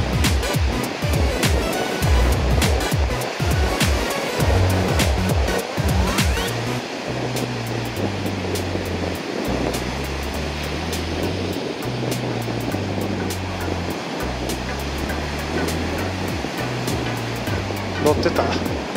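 Ocean surf on the Sea of Japan on a December late morning, dumping waves breaking and washing continuously with steady roar, wind buffeting close by, no talk.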